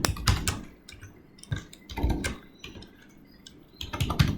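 Python code is typed on a computer keyboard, close-up clusters of key clicks in short uneven bursts with quiet gaps between them.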